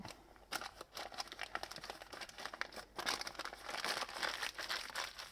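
Wax paper crackles and rustles steadily as new old stock camshafts for a DOHC EA82 engine are rolled up in it by hand, close and fairly quiet, with bursts of crinkling and no voices.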